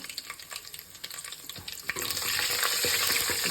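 Asafoetida, cumin, mustard seeds and a bay leaf fry in hot oil, with a few light clinks and scrapes at first, then a louder, steady frying hiss taking over for the last second and a half.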